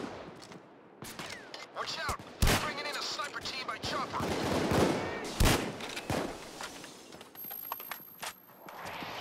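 Gunfire rings out in a Payday 2 heist shootout, sharp shots and bursts scattered through a busy mix, with players talking over the chaos throughout.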